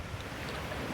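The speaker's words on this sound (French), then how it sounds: "voilà, la rivière principale" Main river running high during a flood, heard from a bridge: a steady, broadband wash of rushing water mixed with wind buffeting the microphone, continuous and fairly loud without pause.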